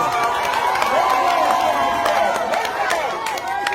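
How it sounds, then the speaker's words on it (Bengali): Audience applause and cheering at a national boat race competition, a dense crowd wash of clapping and shouts held steady and loud throughout, with voices mixed in. "দর্শকবৃন্দ আপনারা হাততালির মাধ্যমে অভিনন্দন জানান"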